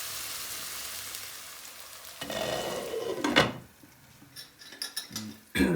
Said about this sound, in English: it's been cooking away for about 5 minutes, and my auntie's just wanted the onions to soften up